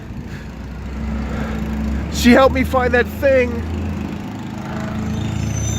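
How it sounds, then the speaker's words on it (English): A garbage truck's engine drones steadily close by, a low continuous rumble running through the whole stretch while a person talks over it in the middle. "God damn it, garbage truck, stop following me around."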